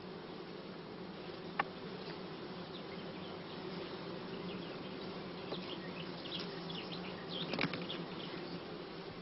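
Honeybees and drones swarm over hive frames in a steady, close, continuous buzz, with a couple of brief sharper knocks or bumps rising above the drone.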